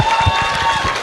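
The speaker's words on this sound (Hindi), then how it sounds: "तो आरजे सौरभ के लिए मेरे यार एक बार जोरदार तालियां दे दो" Audience applause and clapping at a Chandigarh music event conversation, a dense, loud burst of many hands heard up close for about a second.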